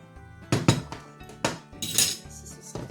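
Cooked pasta and zucchini get tossed together in a bowl with cutlery, giving a few close, sharp clinks and scrapes of metal against the dish in an irregular rhythm, with no voices.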